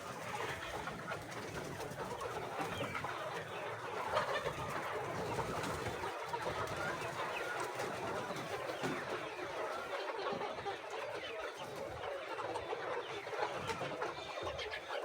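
Poultry house full of chickens recovering after debeaking, a dense continuous chorus of clucks and murmuring calls from many birds at once, steady and moderately loud with no talking.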